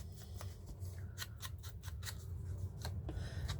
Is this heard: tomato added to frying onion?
no